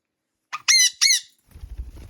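A sun conure parrot gives a few sharp, shrill squawks in quick succession, loud and close indoors, followed by soft low rustling handling noise.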